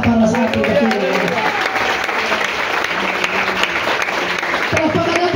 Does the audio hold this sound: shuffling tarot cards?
no